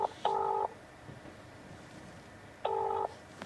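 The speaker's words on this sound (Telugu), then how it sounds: "ఫోన్ చేద్దాం ఒకసారి" Telephone tones during a call sound in two long, identical steady beeps about two seconds apart, clean and alone against a faint quiet background.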